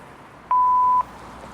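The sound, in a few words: answering machine beep before leaving a message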